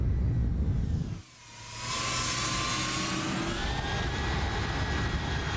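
Jet engines of a FedEx 757 in the X-Plane 11 flight simulator roar loudly, briefly dipping before swelling back into a steady whining roar with a rising high-pitched tone, no voices over it.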